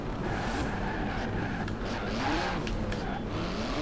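A 700-horsepower 3.8-litre twin-turbo flat-six engine in a carbon-fibre car in Forza Horizon 4, droning steadily and loudly throughout with a rising pitch sweep midway, no talking.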